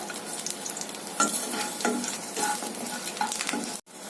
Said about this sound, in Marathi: आता आपण लसूण आणि आलं घालून घेऊया त्याच्यामध्ये आणि भाजून घेऊया चांगलं.